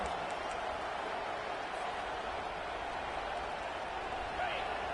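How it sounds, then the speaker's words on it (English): Football stadium crowd at a Florida–South Carolina game roaring steadily as the home fans try to help the defense in the red zone, a dense continuous wash of cheering noise with no clear breaks and a commentator speaking over it. "And the crowd coming to life here, trying to help this defense down in the red zone."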